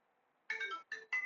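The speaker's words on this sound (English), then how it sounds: "I got a phone call" A phone ringtone from an incoming call plays a short electronic melodic phrase in three quick bursts, clear and close against near silence.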